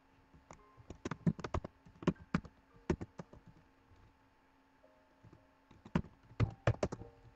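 Someone types a password on a computer keyboard, the quiet close keystrokes falling in irregular bursts with a pause in the middle and no talking.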